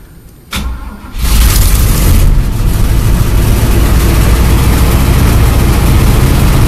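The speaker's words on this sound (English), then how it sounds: "Let's see what it idles like." An engine cranks and catches after a carburetor clean-out, then settles into a loud, steady idle close to the microphone, with no talking over it.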